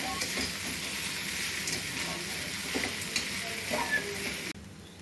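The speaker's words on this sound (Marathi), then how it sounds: "आता या पोह्यांना छान असं एकजीव करून घ्यायचा।" Poha being stirred and mixed in a pan for street-style poha, a constant scraping and sizzling hiss with brief spatula scrapes, cutting off abruptly near the end.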